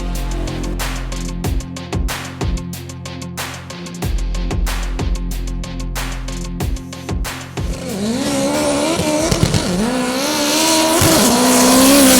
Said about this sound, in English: That's a clear wheel spin.